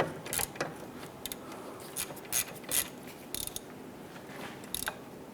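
A ratchet snugs down caliper bracket bolts on a 1995–2001 Ford Explorer front brake, giving short bursts of rapid clicking separated by brief pauses, close and fairly crisp over quiet garage background.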